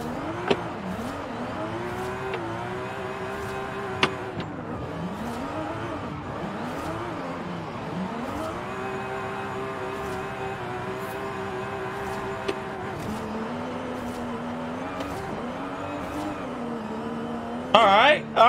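Fredric Aasbø's Formula Drift championship-winning Toyota A90 Supra in Forza Horizon snarls through repeated revs and upshifts, its engine pitch sweeping up and dropping, with tire squeal and a loud burst near the end.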